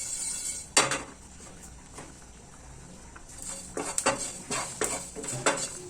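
Spices dry-roasting in a frying pan over a low gas flame, with sharp metallic scrapes and clinks of a utensil against the pan in irregular bursts over a soft background sizzle, close up and without talk.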